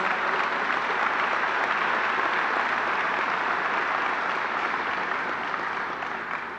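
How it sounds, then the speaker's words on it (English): Audience applause for the Moynihan family at the announcement of construction on the new Moynihan Train Hall, a sustained steady roar of many hands clapping, evenly loud and tapering slightly at the end. "Maura Moynihan and the Moynihan family, let's give them a round of applause."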